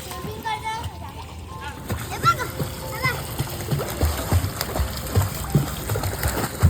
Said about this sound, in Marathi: अदू तू ना गेला पाण्यात हा नको जाऊ तू पाणी थंड असेल एकदम